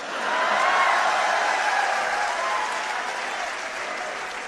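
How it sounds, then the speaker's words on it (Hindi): An audience claps loudly and continuously at a comedy performance in Hindi, a dense, even wash of applause that swells briefly and then tapers slightly over a few seconds. "इस बार आपकी तालियां जरूर उठेंगी"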